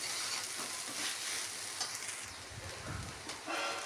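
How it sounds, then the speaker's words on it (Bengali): Chow mein fries with curry leaves and peanuts in a pan, a dense continuous sizzle with soft scraping stirs underneath, close and steady throughout. "দিয়ে এটাকে ভালো করে একটু নেড়ে চেড়ে নিচ্ছি।"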